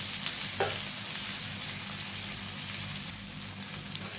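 Tofu frying in hot oil in a pan, a continuous bright sizzle with scattered spitting pops over a low steady hum, close and even, with no voices.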